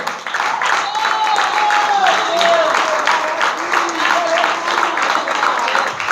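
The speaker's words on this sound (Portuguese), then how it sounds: "Quem acredita pode aplaudir ao Senhor." A church congregation at an evangelical service claps steadily in a reverberant hall while the pastor's voice continues over the applause.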